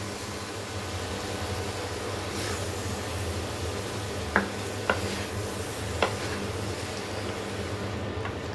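Boiled vegetables frying with masala in a pan for sambar, a continuous soft sizzle with a few sharp utensil taps against the pan midway.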